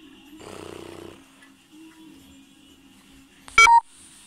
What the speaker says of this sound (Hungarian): Igen, jöttek egy értesítés.